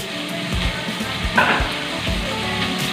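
Eggs for egg biryani fry loudly in a hot pan with a constant close sizzle, broken by a few utensil knocks and stirring.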